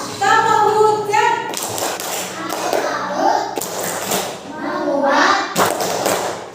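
Children and a teacher in a classroom playing the tepuk hujan rain clap game, with rhythmic hand claps and thumping taps in bursts mixed with chanting children's voices.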